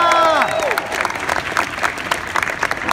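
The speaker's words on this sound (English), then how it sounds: "So give Bill another big round of applause." A political rally crowd at a Tim Kaine event gives a loud round of applause for Bill, opening with a brief shouted cheer and settling into dense, sustained clapping.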